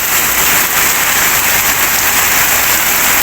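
Very heavy rain pours down in a dense, constant roar with no letup, loud and close.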